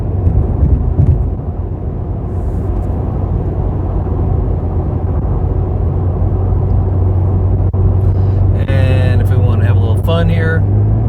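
Steady low engine rumble and road noise from a Cadillac ATS-V accelerating on a highway near Marietta, heard from the cabin with a constant drone throughout and a brief rising whine near the end.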